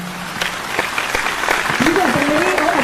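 A crowd applauds steadily at a Hindi poetry gathering (kavi sammelan), dense clapping throughout, with a few sharp louder claps and a faint voice or whistle rising through the middle.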